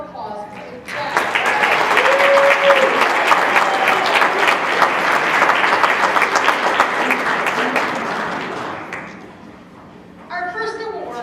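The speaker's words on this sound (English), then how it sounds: "Let's once again give all Miss contestants a round of applause." A pageant audience applauds its contestants in a long, loud burst of clapping that fills the room, then thins and trails off near the end, with some crowd noise and brief speech at the tail.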